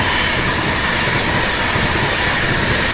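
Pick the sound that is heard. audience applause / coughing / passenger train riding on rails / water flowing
passenger train riding on rails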